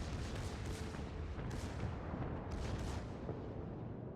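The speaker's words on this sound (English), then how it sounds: "Right, secondaries are opening up here." Bismarck battleship secondary guns firing in World of Warships, dense rumbling gunfire and artillery booms that blur into a continuous roar, with a few sharper bursts standing out.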